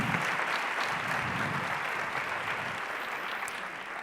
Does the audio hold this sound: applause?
yes